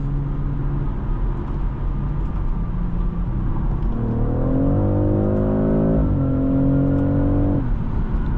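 A 2025 BMW X3 M50 hybrid accelerating, heard from inside the cabin as a constant road rumble under an engine note that climbs in pitch, surges and then holds.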